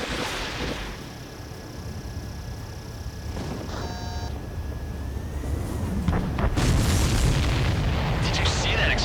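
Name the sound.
explosion in Ace Combat 7 video game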